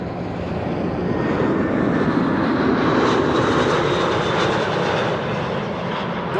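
An Air Canada Airbus A330 arrives at Amsterdam Schiphol on a frosty day, its loud, steady engine roar swelling slightly through the middle and holding strong with no talk.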